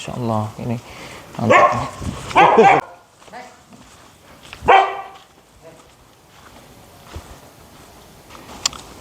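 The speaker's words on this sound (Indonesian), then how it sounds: "ada anjing yang menggonggong tiba-tiba" A dog barking suddenly on a small village lane, several loud nearby barks in quick bursts, followed by a fainter later bark, with someone speaking briefly over the scene.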